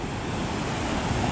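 Ocean surf washes steadily onto Copacabana beach in Rio at dawn, a continuous broad rushing roar, loud and close, with no voices.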